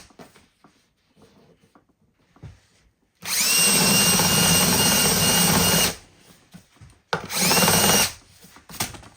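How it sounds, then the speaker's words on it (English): A countersink bit in a power drill whizzes around a seat mount indentation on a Covin Porsche 911 replica, two loud close bursts of high whining drilling, the first about three seconds long and the second shorter, separated by quiet handling noises. "get yourself a countersink and just find where the indentation is for the mount and just whiz around it like that"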